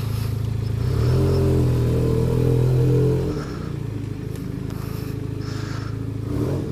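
A Benelli TNT 300 motorcycle fitted with an IXIL60 Anniversary Edition exhaust runs close by, a loud engine rising in a rev, then dropping back to a throbbing idle with some mechanical clatter.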